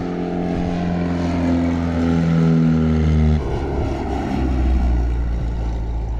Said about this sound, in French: Regardez, il y a un avion qui décolle.